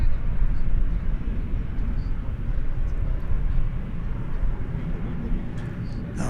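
An Envoy airliner takes off from runway 18 left at DFW Airport, a steady broad jet roar heard from a distance, with radio voices talking over it.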